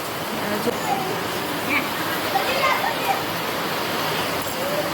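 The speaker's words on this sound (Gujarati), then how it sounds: "બપોરના 5 વાગી ગયા છે અને ધોધમાર વરસાદ આવી રહ્યો છે" Heavy late-afternoon downpour in Asodar village, a dense, unbroken hiss of rain close by that holds steady for the whole stretch, with faint voices now and then in the background.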